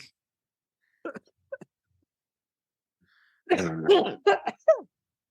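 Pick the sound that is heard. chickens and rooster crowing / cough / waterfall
cough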